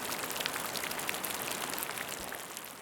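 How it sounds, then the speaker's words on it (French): Steady rain falls and patters on surfaces, a dense, even hiss of drops close by with scattered brighter taps, continuing without pause and with no voices. "au son de la pluie qui s'était mise à tomber et le berçait"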